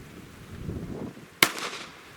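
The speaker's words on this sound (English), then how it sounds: "I'm just going to shoot 3 shots" A single sharp crack from a 9mm pistol being fired at a chronograph, loud and close, with a short ringing tail after the shot and quiet room noise before it.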